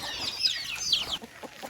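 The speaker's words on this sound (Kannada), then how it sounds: "ನೋಡಿ ಹಂಗೆ ಕೋಳಿಗಳೆಲ್ಲ ಬಿಟ್ಟು" Chickens let out to forage on a farm give a brief burst of close, sharp clucking calls that fades into quieter clucks within under two seconds.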